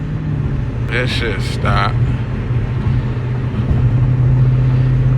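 A Dodge Challenger SRT 392 with an 8-speed transmission drones low and steady from inside the cabin while cruising on the highway, the engine swelling slightly louder near the end as someone talks over it.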